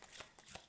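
Playing cards shuffled for a card reading, heard as three quick riffling bursts close by, each a soft papery flutter, with no talking.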